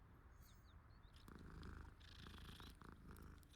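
A cat in Hogwarts Legacy purring softly as it is petted, a faint low rumbling with soft rustles and light game effects over it.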